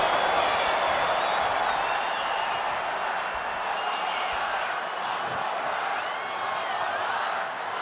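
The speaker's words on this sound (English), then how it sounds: "This crowd chanting one more time" Arena crowd in the WWE 2K25 wrestling video game, a dense steady roar of many voices chanting and cheering at a distance.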